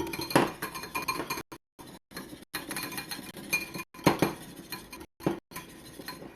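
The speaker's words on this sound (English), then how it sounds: "take a whisk, and we are going to whisk them until they turn like a light yellow" Egg yolks being whisked in a bowl for keto eggnog: a quick, steady run of metallic clinks and rattles against the bowl, close and fairly loud, broken by a few short pauses.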